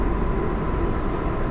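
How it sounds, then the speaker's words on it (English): A Flushing-bound 7 local subway train in Queens, New York, running on elevated track: a steady, loud rumble and roar of the moving cars, continuous with no break and no talk. "This is a Flushing Main Street bound 7 local train."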